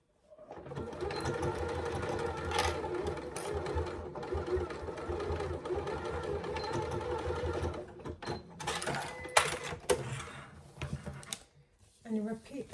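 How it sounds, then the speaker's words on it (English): A sewing machine stitches across the base of a zip pouch in a steady, fast mechanical whir, then slows and stops into a few clicks and handling knocks; a voice talks over the stitching. "we're just stitching across to create that flat base"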